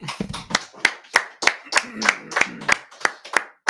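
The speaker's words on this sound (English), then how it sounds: "clap it up" A small group claps their hands together in a brotherhood class, sharp, evenly spaced claps in a steady rhythm, about a dozen strikes, close and loud.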